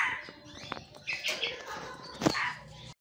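Several caged sooty-headed bulbuls, also called trucukan, chirp in the morning while sunning, a scatter of short bright calls and tweets at moderate distance over faint background noise.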